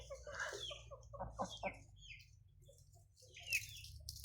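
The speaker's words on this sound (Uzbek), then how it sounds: "U yoqda ham, ichkarida ham jo'ja tovuqlar bor, katta yirik tovuqlar dam olyapti hozir." Chickens, both young chicks and large grown hens resting in a pen, give soft scattered clucks and brief calls over a steady low background hum, with no talk.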